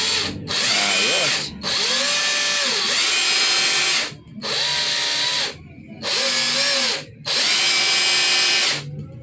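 Repaired cordless hammer drill running in several long bursts of steady high whine, each lasting one to two seconds with short pauses between, loud and close with no talk.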